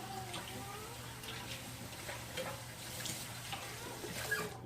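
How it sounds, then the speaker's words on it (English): A spoon is washed under a running kitchen tap, with a steady, fairly faint stream of water that continues without a break and no talking. "I'm gonna get a different spoon and wash a different spoon out"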